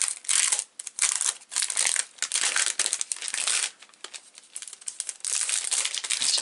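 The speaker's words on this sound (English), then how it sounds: "Let's just get the paper off first." Paper wrapping is pulled off a Stampin' Up! craft haul, making close, steady crinkling and crumpling in bursts with short pauses, with no voice over it.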